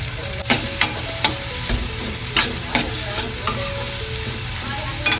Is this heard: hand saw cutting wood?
no